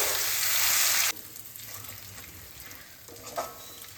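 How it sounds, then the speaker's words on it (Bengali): Crushed garlic sizzles in a hot pan of oil, loud at first and then settling into a softer, steady fry with light crackles. "রসুনটা ভাজা ভাজা হয়ে গেছে"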